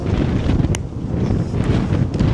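Strong cold wind blowing outdoors on a town street, a loud continuous low roar buffeting the microphone, steady and close with no speech.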